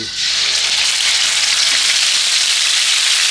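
Coriander root, garlic and pepper sizzle steadily in hot oil over a medium flame, a loud, dense frying hiss that holds evenly throughout with no voices.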